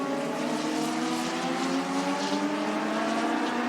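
Race cars from a Thursday Thunder event drone continuously around the track, with a loud steady engine roar and layered harmonic whine that holds throughout, without talk over it.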